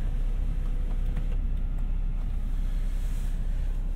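A 2021 Range Rover Sport HST sets off on a drive, its low, steady engine and road rumble heard from inside the cabin with no talk.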